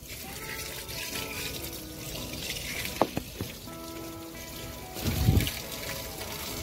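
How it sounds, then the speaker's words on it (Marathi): Water drains and trickles steadily from a pickup's engine cooling system during a coolant flush, a thin running stream with a few clinks and a louder splashing gush near the end. "कूलंट नाही, फक्त पाणी पडते"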